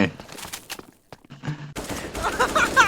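Gunfire rings out in the shooter game Bullet Angel, quick rifle bursts and scattered single shots with a short gap, then renewed firing, while someone talks excitedly over it.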